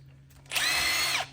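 A cordless power tool whirs briefly to back out the speed sensor on a Yamaha Hitachi golf cart motor, a single close, high-pitched spin of under a second that ramps up and winds down.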